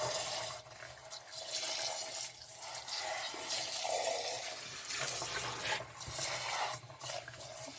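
Tap water runs steadily to rinse leftover grit out of a rock tumbler barrel during the refining stage, with light splashing and stirring, close and continuous.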